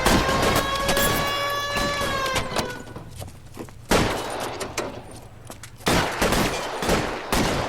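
Gunfire erupts in a shootout in the PS5 crime game L.A. Noire: repeated loud bursts of shots at close range, with a ringing tonal whine early on and louder volleys returning in waves.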